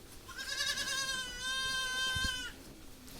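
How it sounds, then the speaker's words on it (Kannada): A young goat kid on a grandfather's farm bleats in one sustained, wavering cry of about two seconds, close to the microphone, with no talking over it. "ಕರು ಮರಿ ಸೌಂಡ್ ಮಾಡ್ತಿರೋದು"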